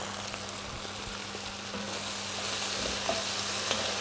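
Onions frying in a pan on a home stovetop, a steady close sizzle with faint stirring scrapes and no talk.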